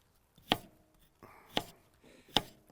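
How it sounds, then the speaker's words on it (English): A kitchen knife slices through a cucumber lengthwise for a cold cucumber salad, giving three sharp, close chopping knocks on the cutting board at steady intervals with quiet pauses between. "then we're going to go ahead and cut the cucumber in half lengthwise."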